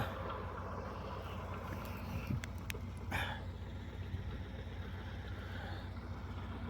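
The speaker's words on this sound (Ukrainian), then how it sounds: "двадцятка можна сказати, що тракторець іде. Важкувато йому" A steady, low engine drone from a straining YuMZ-6 tractor plowing a sunflower field runs throughout, with a few brief clicks and a short rattle midway, heard from nearby without any talking.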